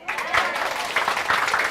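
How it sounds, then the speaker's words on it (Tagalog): A small group applauds for a short burst, with quick, fairly close clapping in uneven rhythm and faint voices underneath. "pag maganda yung natututunan ko, pumapalakpak ako"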